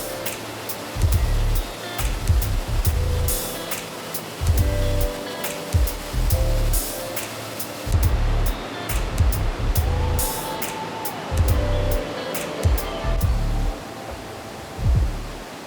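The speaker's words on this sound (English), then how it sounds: "There are thousands of gallons per minute spilling down this quartzite canyon into the creek below." Steady, heavy roar of a waterfall pouring thousands of gallons per minute down a quartzite canyon into a creek, a dense rushing wash of water with low rumbling surges throughout.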